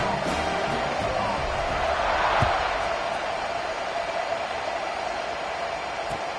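Big football stadium crowd at a Nebraska versus Mississippi State game roaring through a kickoff, a dense wash of distant cheering that swells briefly and then holds steady.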